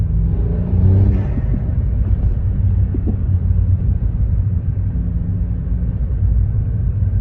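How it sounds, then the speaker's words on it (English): A Skoda Citigo vRS engine fitted with an induction kit rumbles low and steady from inside the cabin, with a deep exhaust drone and a brief rise in revs near the start. "If you can hear over the exhaust, that is."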